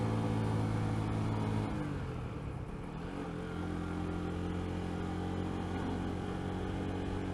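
A motorcycle engine lugging in fourth gear on an uphill road drones steadily under load, with a low labouring hum that dips briefly and then settles back into a constant pull.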